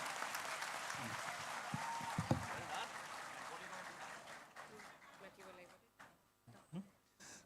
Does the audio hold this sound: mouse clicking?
no